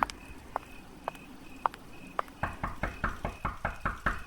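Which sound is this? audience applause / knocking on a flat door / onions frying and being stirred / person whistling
knocking on a flat door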